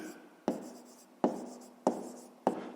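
Pen writing by hand on paper while working a fifth-grade math exercise, four sharp strokes or taps spaced evenly apart, each trailing into soft scratching, recorded close and quiet with no talking.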